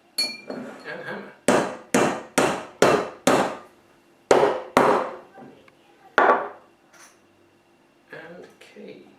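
Corks being hammered into glass bottles of homemade sparkling rhubarb wine, a series of sharp, close, evenly spaced hammer blows in two bursts with scattered quieter knocks and faint talk between.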